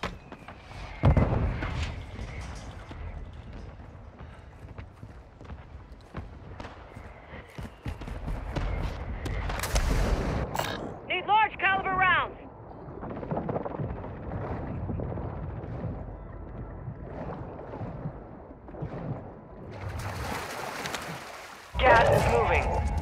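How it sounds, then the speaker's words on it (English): Friendly mortar strike in Call of Duty: Modern Warfare II, heavy booming explosions scattered across the stretch, some distant and rumbling, one loud blast near the end, amid battlefield noise and talk. "Friendly mortar strike inbound."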